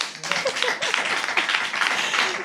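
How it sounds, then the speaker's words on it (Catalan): A small audience at a Catalan radio podcast recording claps steadily and briskly for a couple of seconds, fairly close and even in loudness. "aplaudiu, senyors"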